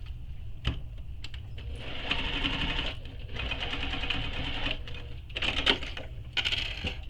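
A sewing machine stitching along the edge of a fabric wallet, close and fairly quiet, in several bursts of rapid mechanical whirring separated by short pauses and a few clicks.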